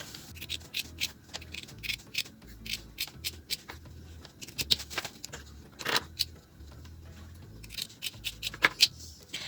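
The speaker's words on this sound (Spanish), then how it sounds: "Voy a recortar, ¿sí? Todo un centímetro." Scissors trimming the seam allowance on a sewn fabric corset, a quick run of crisp, close snips in irregular bursts with brief pauses between cuts.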